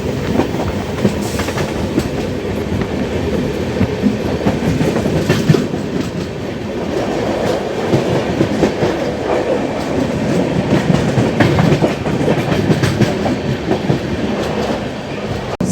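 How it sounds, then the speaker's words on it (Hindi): The Konark Express rolling past the Telangana Express in a crossing, with a loud, continuous rumble of wheels and carriages and rhythmic clickety-clack heard from close by aboard the train. "तो अपनी क्रॉसिंग हो रही है तेलंगाना एक्सप्रेस के साथ।"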